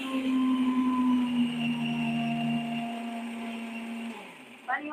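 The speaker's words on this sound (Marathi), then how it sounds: "ह्यो मिक्सर आहे ना एकदम बारीक वाटता काही सेकंदात." A mixer grinder whirs steadily while grinding Malvani masala paste for mutton, a loud tonal motor hum that winds down and stops near the end, followed by a short clatter.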